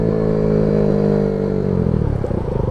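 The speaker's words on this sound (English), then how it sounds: "you're gonna have to rev it up to almost 7 grand to catch that downshift on the 3 to 2 downshift" A Kawasaki Z125 Pro motorcycle engine is revved hard for a rev-matched 3-to-2 downshift, with a loud, close, buzzing roar that holds steady and then climbs and wavers as the throttle is blipped.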